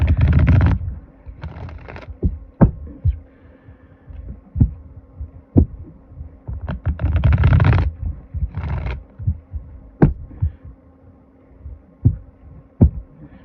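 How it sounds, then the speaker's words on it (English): A deck of tarot cards is shuffled close by in a few riffling bursts, separated by sharp single taps and quiet gaps over a faint background hum. "3 more shuffles, Great Spirit."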